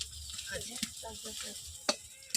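Bhola fish sizzling in oil in a pan, a soft, steady frying hiss with a few sharper crackles and pops, partly under quiet talk.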